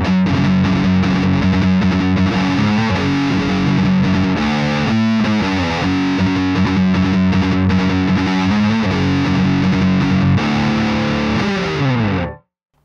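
A Squier Contemporary Active Starcaster played through its neck pickup with a heavily distorted metal tone, giving a loud, sustained, continuous run of riffing for about twelve seconds before it cuts off abruptly, with no talking.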